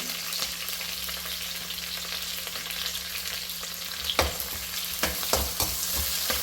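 Capsicum goes into a pan of onion frying in oil for a chicken gravy, a continuous close sizzle under occasional sharp spoon-scraping knocks, several clustered near the end, with no voices.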